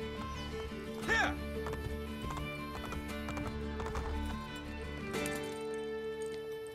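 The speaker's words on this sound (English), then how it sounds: "Keep up with the horses." Horse hooves clip-clop in Assassin's Creed Brotherhood, a rhythmic trotting with a neigh over steady background music.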